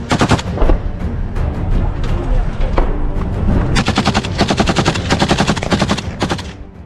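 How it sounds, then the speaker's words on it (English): Dense, loud gunfire from a group of Ukrainian soldiers fighting in woodland, with rapid bursts and rattling volleys of automatic rifle shots overlapping almost continuously throughout. "The group of at least 6 men can be seen rapidly shooting at Russian targets and vehicles"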